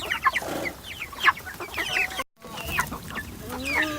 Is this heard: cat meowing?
no